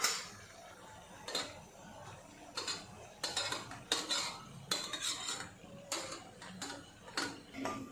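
Steamed vegetable momos being lifted out of a steamer, with repeated clinks and scrapes of metal utensils against the steamer pan, close and moderately loud, in an irregular rhythm with no speech.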